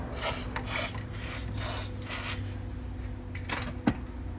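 Short hissing bursts of aerosol spray on a broken exhaust manifold bolt of a Ram ProMaster City 2.4 repeat close by, with a few small clicks and a light knock near the end.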